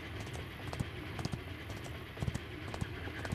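Quiet horse hoofbeats clop in an uneven galloping rhythm over a faint background hum, from the video game GRIT.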